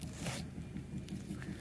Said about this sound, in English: I'm going to cut this box open real quick